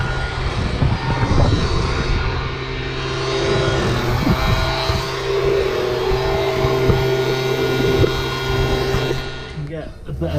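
The chaff spreader discs of a combine harvesting barley make a loud, continuous whirring drone from fast-spinning parts. It holds steady for several seconds and eases off near the end.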